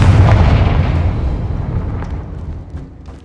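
A Confringo fire spell explosion in the Hogwarts Legacy video game, a single loud deep boom that rumbles and fades away over about three seconds.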